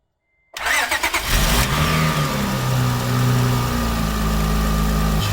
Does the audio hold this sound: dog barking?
no